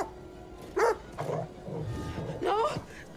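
A dog in a video game gives two short, sharp yelping barks, one near the start and one near the end, with low vocal sounds and game noise between them at moderate volume.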